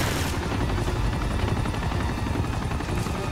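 Helicopter in the video game Uncharted 2, a loud continuous rotor thrum filling the scene with scattered gunfire-like impacts, no one speaking.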